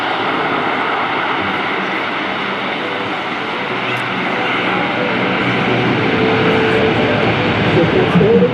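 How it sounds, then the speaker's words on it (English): Patrouille de France jets taking off at an air show, a loud, steady roar of engines that swells slightly toward the end, with voices faintly audible underneath. "Here we go for takeoff."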